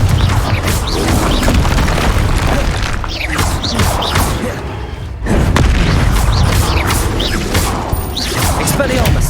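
Confringo fire spells burst and explode repeatedly in the Hogwarts Legacy video game, a dense, loud wash of booms and crackling blasts that barely lets up, with a brief lull midway and voices mixed in.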